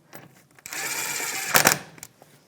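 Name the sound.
bolt driven in with a 13mm socket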